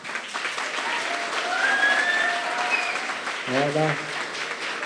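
Audience applause at an eloquence tournament qualifying evening, a steady, moderately loud wash of clapping throughout, with a brief spoken word near the end.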